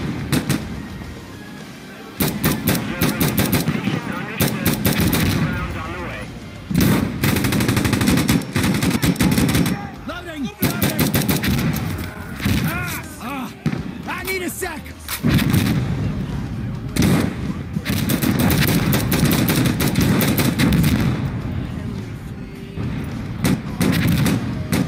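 Explosive artillery rounds and gunfire in the Insurgency: Sandstorm game form a dense, loud barrage of rapid machine-gun bursts and heavy booming impacts, continuing almost without pause, with brief lulls.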